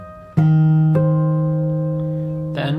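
On acoustic-style fingerstyle guitar, a phrase from a song rings out as three plucked notes, the first two low and sustained with a deep bass note, the last brighter and strummed-sounding, with no voice over it.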